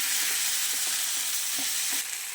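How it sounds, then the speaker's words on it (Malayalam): Beef sautéing in a hot pan for a beef fry, stirred until it browns dark: a steady, loud sizzle with soft scraping strokes of the spoon, no voices. "നമ്മൾ ബീഫ് അതിലേക്കിട്ട് നന്നായിട്ട് വഴറ്റി നല്ല കറുപ്പ് കളറാവുന്നത് വരെ"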